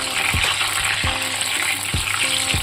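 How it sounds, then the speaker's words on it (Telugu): Green beans fry in a pan with a loud, steady sizzle, broken by occasional soft knocks of a stirring utensil. "ఇలా మనము అయిపోయేదాకా కూడా ఇలా వేయించేసుకోవాలి చిక్కుడుకాయని"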